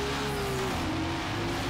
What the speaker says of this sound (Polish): Teraz mamy w końcu jakiś inny dźwięk tego auta.